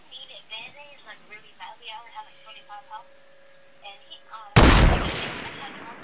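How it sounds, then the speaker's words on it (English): A single loud, close sniper rifle shot in a video game cracks out sharply and rings off in a decaying tail, following a stretch of talking. "Oh, I hit him with the sniper"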